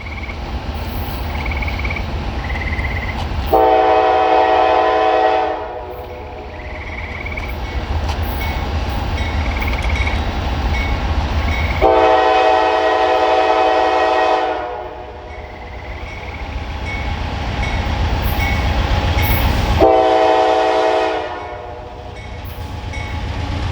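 A loud BNSF freight train led by a Norfolk Southern locomotive rumbles steadily past while its horn blares in three long blasts, each lasting a couple of seconds, over continuous heavy rolling noise.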